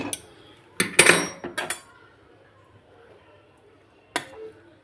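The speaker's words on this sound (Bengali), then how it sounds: "মাছের ঝোল হয়ে গেছে, এবার নাড়িয়ে দেবো" A utensil scraping and knocking against a pot of thin fish curry with eggplant, potato and lentil dumplings, a few close clattering strokes in a short cluster, then one more clink after a pause, with no voices.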